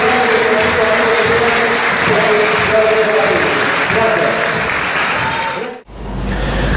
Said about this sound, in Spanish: un aplauso para todos los concejales